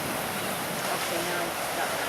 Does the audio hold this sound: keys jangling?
no